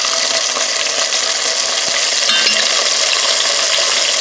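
Plant-based yogurt hitting hot oil and frying spices in a pan while cooking a Rajasthani curry of butternut squash and potato: a steady, loud, close sizzle with a faint stir or clink midway.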